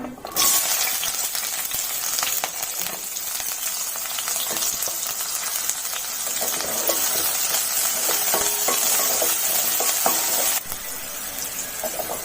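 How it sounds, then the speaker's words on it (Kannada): Mustard seeds spluttering and onions frying in oil in a pan for Karnataka-style masala upma: a continuous loud sizzle scattered with sharp pops and crackles, cutting out briefly just before the end. "ಸಾಸಿವೆ ಹಾಕೊಂಡು ಸಾಸಿವೆ ಪಟ ಪಟ ಆದಮೇಲೆ ಈರುಳ್ಳಿ ಹಾಕೋಬೇಕು"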